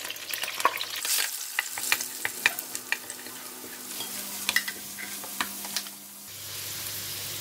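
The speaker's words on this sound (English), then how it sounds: "We fry all the ingredients until" Onions and curry leaves frying in a pan for mutton curry, a steady sizzle with repeated close scrapes and taps of a stirring spoon, with a brief quieter stretch near the end.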